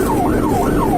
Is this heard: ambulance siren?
yes